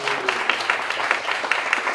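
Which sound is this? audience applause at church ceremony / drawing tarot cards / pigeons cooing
audience applause at church ceremony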